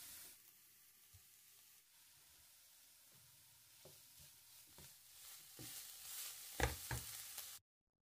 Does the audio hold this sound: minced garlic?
yes